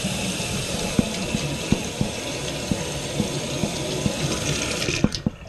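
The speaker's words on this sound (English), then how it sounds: "Go ahead and give it a nice wash again." Running tap water pours steadily over an etched glass wine bottle being rinsed, with a continuous splashing hiss broken by small clinks and knocks of the glass, close and fairly loud, no talk.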